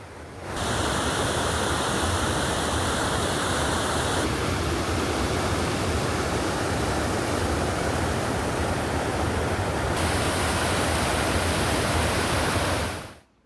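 Heavy monsoon downpour across Bhavnagar streets, with rainwater overflowing: a dense, unbroken roar of rain and rushing water, loud and steady throughout with no voices.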